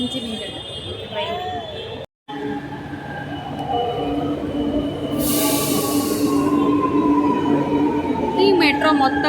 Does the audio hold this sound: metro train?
yes